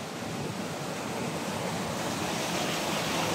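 Rushing water inside a forest, a steady broadband roar of flowing water that is loud and continuous throughout with no talk.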